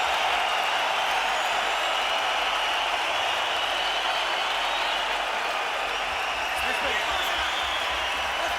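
Boxing arena crowd at Kovalev vs Pascal cheering and applauding Jean Pascal as he returns to his corner between rounds, a dense, steady roar of clapping and shouting throughout, with faint commentary beneath.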